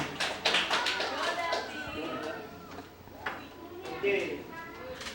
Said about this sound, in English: Okay, round of applause for Justin.